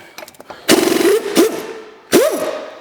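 Pneumatic impact wrench removing lug nuts from a C3 Corvette slotted wheel, loud close bursts of rapid hammering, three separate rattling runs each trailing into a falling whine.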